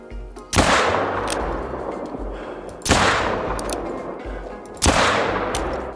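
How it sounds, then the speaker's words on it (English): Three loud, sharp rifle shots spaced about two seconds apart, each trailing off in a long rolling echo, fired during a hunt in the video game theHunter: Call of the Wild. "This is what you call willy-nilly shots."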